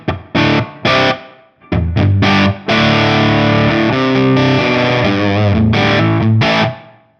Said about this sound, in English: a much more subtle reverb, more of an ambient style reverb, kind of simulating the ambience we would get in a room